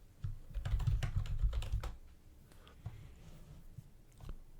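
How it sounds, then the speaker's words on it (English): Rapid computer keyboard typing close up, a dense burst of clicks that thins out into sparser keystrokes. "I guess you'll get some keyboard sounds as well with this."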